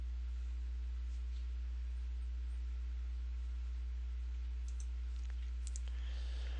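A few faint, sparse computer keyboard clicks from arrow keys adjusting windage in a shooting simulation, bunched near the end over a steady low hum, with no talking.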